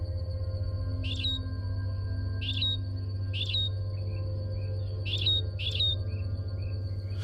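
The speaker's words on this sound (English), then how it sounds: "This simple song is sung by one of Darwin's finches" A simple, high chirping song from one of Darwin's finches repeats in five short phrases at even intervals, clear and fairly close above a low steady drone.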